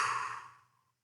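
A single breathy exhalation during a breathing demonstration, a soft airy rush that starts full and fades out over about a second, heard alone and close.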